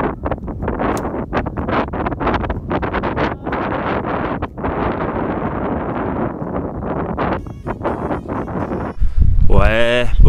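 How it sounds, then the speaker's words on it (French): Strong crosswind blowing across a golf course during a storm, roaring and buffeting hard against the microphone in continuous gusts, with a person talking through it. "j'ai un gros vent contre latéral droite-gauche"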